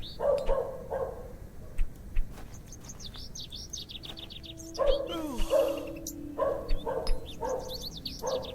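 A small dog barking in a video game, a point-and-click horror adventure, giving repeated yappy barks in short bursts, with chirping birds and a low ambient hum in between.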